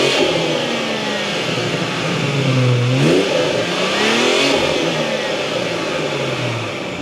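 BMW 440i fitted with an MST intake, engine revving hard with a rising, swelling note mid-clip over a steady loud mechanical roar, close by and with no talk.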